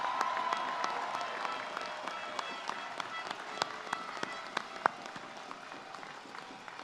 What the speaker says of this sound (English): let's give them a round of applause for what a great job they did